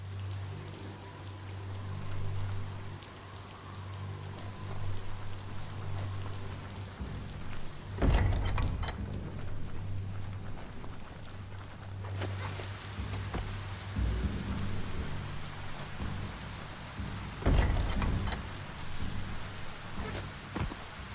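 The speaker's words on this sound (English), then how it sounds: "When it rains, it gets wet." Steady rain hisses across an outdoor scene in the action game Biomutant, with low rumbling thunder rolling in several times and a constant hum underneath, no voices.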